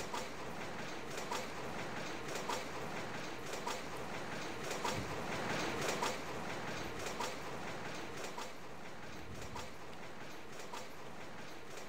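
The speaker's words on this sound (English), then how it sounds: "The train is moving." A subway train in a Roblox obby game rumbles along with a continuous loud roar and rhythmic clickety-clack of the wheels, steady throughout with no talking.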